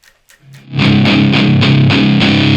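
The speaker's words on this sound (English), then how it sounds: "Oh, you can hear the tubes of the transformer making noise." An electric guitar plays through a 100-watt tube amp turned all the way up, with heavy transformer distortion: loud, thick chugging chords in a steady rhythm after a few quiet picked notes.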